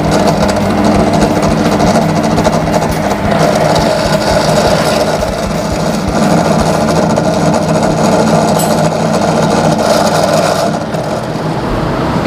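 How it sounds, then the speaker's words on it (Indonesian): A small power drill with a 2 mm bit, working on a motorcycle, runs steadily and loudly for about eleven seconds, a continuous whirring buzz that eases off near the end. "Menggunakan bor 2 mili ya."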